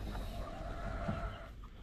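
Hens near a homemade nest box on a backyard Filipino farm give soft, low clucks, faint and intermittent against a steady rural background hum, with no talking.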